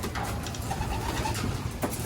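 Pigeons or doves in a backyard coop cooing, soft repeated coos close by over a low background hum, with no talk.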